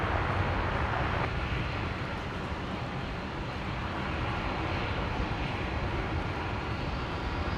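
Military transport aircraft at Brisbane International Airport, C-130J and A400M turboprops and a French A330 MRTT, giving a loud, sustained broadband engine roar that holds steady throughout.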